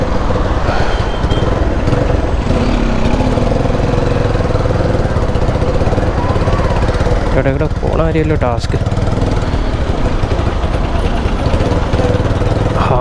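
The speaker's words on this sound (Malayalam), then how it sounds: "സൈലൻസർ പാക്കിങ് പോയി കേട്ടോ. അതാണ് ഒരുമാരത്തെ സൗണ്ട്. അതിൻ്റെ അവിടെ നിന്ന് എയർ ലീക്ക് ആവുകയാണ്." A Bajaj Pulsar 220 motorcycle engine with leaking silencer packing runs close and loud in a steady, throaty idle with a raspy exhaust edge. A voice speaks briefly over it.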